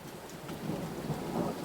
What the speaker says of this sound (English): Rain is pelting the deck as the storm rages on. There's cracks of lightning and thunder ringing out.